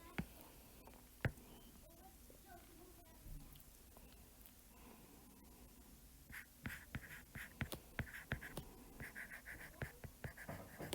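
A pen or marker writing out a math example on solving linear systems, giving soft, faint scratching strokes that grow busier and more rhythmic in the second half, with no talk.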